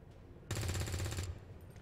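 A single rapid burst of automatic gunfire in XCOM 2, loud and close, rattling for under a second over a low background hum.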